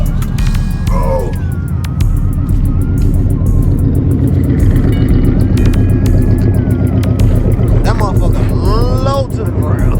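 Engine of a 1975 Delta car idling steadily after a cold start outdoors, a loud, continuous low rumble with some wind buffeting on the microphone and a few higher tonal sweeps near the end.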